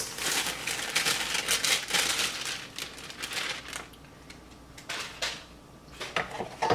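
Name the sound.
adding cake mix to a large bowl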